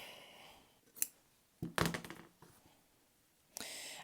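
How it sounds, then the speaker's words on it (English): A few quiet, sharp snips and clicks of scissors, separated by short silences, close by in a quiet room. "maybe I will need scissors"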